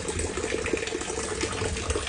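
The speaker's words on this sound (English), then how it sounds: "that's a lot of water coming from our drainage into the pump pit." Drainage water streams steadily into a pump pit during rain, making a continuous close rushing, gushing wash with no break and no voices.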